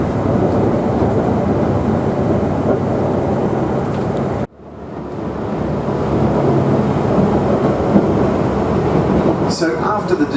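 Savannahlander tourist train running on the Cairns Railway between Redlinch and Myola, a loud continuous rumble and rattle of carriages on the track, briefly cut off midway before resuming, with a voice talking over it.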